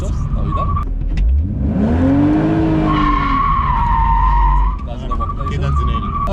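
An old car drifts with its tires skidding, a loud rising squeal riding over the roaring engine, then fading as the engine keeps revving.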